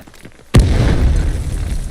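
A sudden loud explosion in the video game Delta Force booms after a quiet moment, followed by a sustained rumbling roar that fades slowly.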